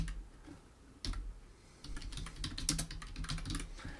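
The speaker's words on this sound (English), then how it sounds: "I of course would type a comment in here" Keys clack on a computer keyboard in quick irregular bursts, close and fairly quiet, with a brief pause before a denser run of typing.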